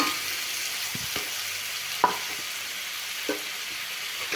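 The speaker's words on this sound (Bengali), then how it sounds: "এখন ভেজে রাখা আলু দেব" Fried potato pieces are stirred into sizzling spice paste made with chili in a pan: a steady close hiss of frying, broken by a few soft clinks and scrapes of the spoon, with no talking.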